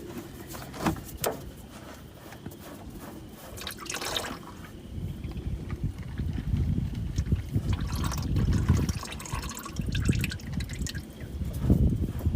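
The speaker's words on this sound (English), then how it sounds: "I'm letting the, I'll say, oil filter housing drain a little bit" Oil drains from an oil filter housing during a car oil change with Amsoil 5w-20, a continuous trickle with irregular splashing drips that grows louder toward the end, no talking.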